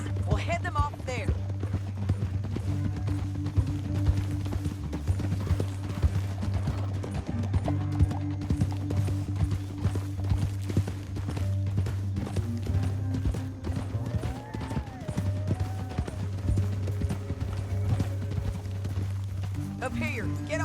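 Horses' hooves clip-clop steadily through a Red Dead Redemption 2 game scene, a continuous trotting rhythm under a low, sustained music drone with no voices over it.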